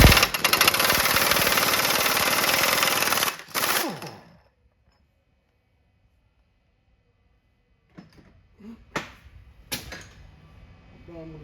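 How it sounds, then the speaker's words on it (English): A 3/4 inch impact wrench hammers loudly and continuously on semi differential nuts on a Spicer DS 404 for several seconds, then cuts off into near silence followed by a few scattered clanks. "Done with the 3/4 impact."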